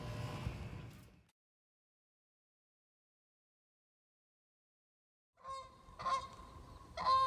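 Geese honk in a short burst, then fall silent for several seconds before a fresh volley of loud, nasal calls starts up close by; no voices.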